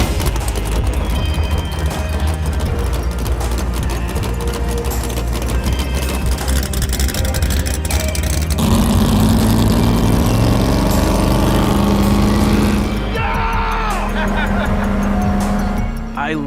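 Boat powered by an LS V8 engine pulled from a truck, running loud and continuous on the water with a deep steady drone that shifts in pitch partway through as the engine note rises.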